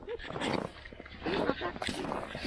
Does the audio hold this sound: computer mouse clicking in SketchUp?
no